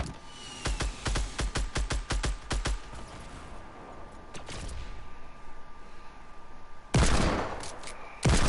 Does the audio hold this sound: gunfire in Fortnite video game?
yes